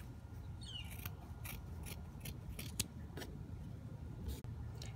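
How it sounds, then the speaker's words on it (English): Scissors snipping a fabric strip for a Schleich model horse blanket, a quiet series of close, crisp cuts in an uneven rhythm, with no talking. "Now we're just going to cut out like a strip in the middle of this."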